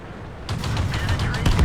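Tank gun firing in a tier 8 World of Tanks style battle on the Erlenberg map, a sudden sharp blast followed by rumbling impact and a second crack near the end.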